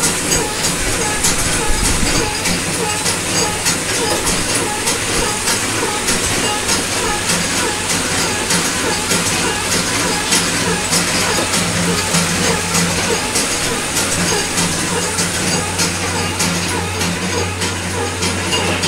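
A batasa sugar-drop making machine from Karmakar Machinery runs continuously in a loud, dense mechanical clatter with a steady low rumble throughout.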